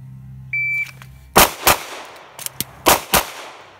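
A pistol fired during practice with the recoil allowed to bounce back: a short electronic timer beep comes first, then about six sharp, loud shots follow in quick pairs, with no talking.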